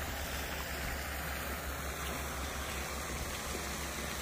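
Water flowing in a stream beside a walking route in Tampere, Finland, a continuous broadband rush and gurgle, fairly close and even in level throughout, with no one speaking.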